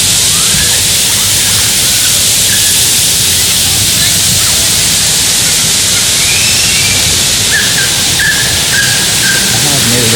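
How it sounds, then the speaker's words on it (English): Forceful waterfall at Diana's Baths in New Hampshire's White Mountains, a steady loud roar of rushing water filling the whole clip, with faint voices and a few high squeaks riding over the constant wash. "Straight ahead is probably the most forceful of all of the waterfalls that are on property here."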